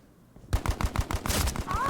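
Guns fire at the sky in the World War II game Hell Let Loose during the battle of Carentan. After a short quiet start, loud rapid bursts of gunfire and booms crowd together close by.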